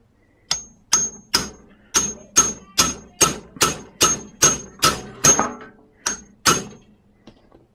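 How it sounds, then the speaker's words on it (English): A hammer driving a friction-fit part on takes about fourteen full-swing strikes on metal in a steady, forceful rhythm, sharp ringing blows close by, fading to a few lighter taps at the end. "That's taking pretty much full swings on the hammer to get that on there"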